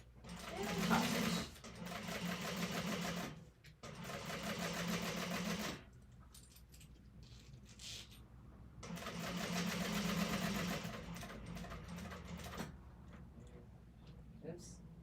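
A domestic sewing machine top-stitching a small bowl, running in two long steady bursts of rapid rhythmic whirring separated by quieter stretches with soft handling noise and talk.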